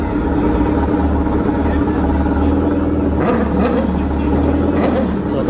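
Kawasaki ZX14 and Suzuki Gixxer motorcycles line up side by side at a no-prep drag strip at Orlando Speed World, their engines a loud, steady rumbling roar with a brief swell of revving, and voices murmur faintly in the background.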